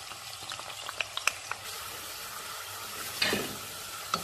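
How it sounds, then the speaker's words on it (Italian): Chopped onion dropped into hot oil for an Italian soffritto in a home kitchen, giving a steady, soft sizzle with scattered crackles and pops and a brief louder hiss of stirring near the end. "L'olio è ben caldo e noi mettiamo la cipolla."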